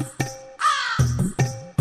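A crow caws in short, harsh calls, several in quick succession with brief gaps, loud and close, set among a Telugu children's rhyme.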